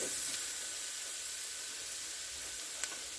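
Taco meat steams in a pan with tortillas laid over it to soften, a steady broad hiss with faint crackles throughout, no voices.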